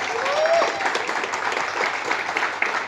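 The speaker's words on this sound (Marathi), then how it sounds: "जरा टाळ्या अगदी जोरदार झाल्या पाहिजेत" Audience applause at a Marathi TV serial press conference, a steady burst of clapping from a crowd filling the whole stretch, loud and close.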